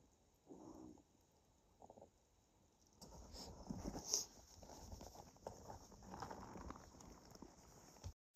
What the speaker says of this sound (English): saddled up the horses and mules, and rode off towards a basin